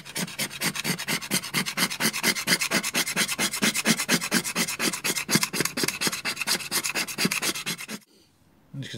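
Fatwood fire starter being shaved into a pile of shavings, a steady series of about thirty rhythmic rasping strokes, close and loud, ending abruptly just before the clip's close.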